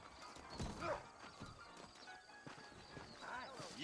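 Horses plod along with a clip-clop of hooves in the video game Red Dead Redemption, fairly faint and mixed with game sounds and muffled voices, over just a few seconds.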